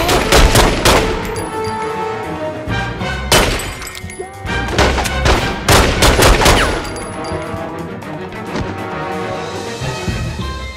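Shotgun fire in The Godfather 2 game, a rapid series of loud, sharp blasts in quick bursts with shattering and breaking debris between shots, dense and close throughout.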